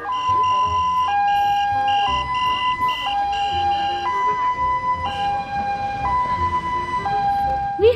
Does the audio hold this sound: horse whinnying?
no